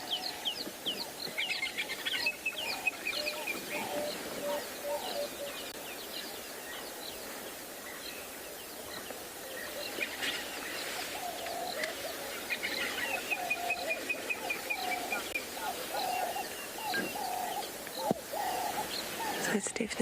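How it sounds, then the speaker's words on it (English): Birds call and cluck around a safari waterhole at sunset, scattered chirps and fowl-like calls coming and going at a moderate distance over quiet ambient background. "So it's definitely more the birds that are making a noise now."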